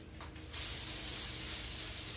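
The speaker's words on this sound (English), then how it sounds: "We are going to spray our foil" A single steady hiss of cooking spray from an aerosol can onto foil starts after a brief pause and continues close up for a couple of seconds.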